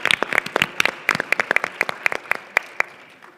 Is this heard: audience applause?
yes